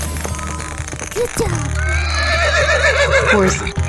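A cartoon horse whinnies loudly and up close, its neigh rising and wavering in a long trembling call over bright music in an animal cartoon.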